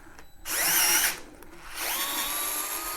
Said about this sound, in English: I finally got myself a power screwdriver